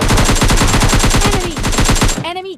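Rapid, loud bursts of automatic gunfire crack in a steady rhythm from a battle royale shooter match involving an AWM sniper, ending with a short trailing sound effect.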